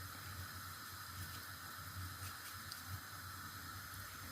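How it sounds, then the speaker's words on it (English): Meat simmering in a pot of water for a spicy spinach stew, a steady hissing, bubbling wash with a low rumble underneath, continuous and close with no talking. "let's wait for the meat to boil"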